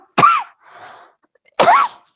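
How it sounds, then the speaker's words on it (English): Two harsh, separate coughs from a person with an infection ring out close and loud, with a soft breathy sound between them and a short silence before the second. "are you taking something for that cough?"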